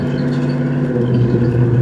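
A 1968 Ford Torino GT idles or cruises with a steady, deep engine and exhaust drone, close and loud throughout, without talk.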